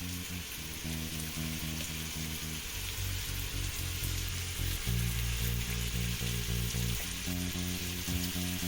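Seasoned meat sizzling steadily in a pan, a constant crackling hiss over a low hum, with no voices.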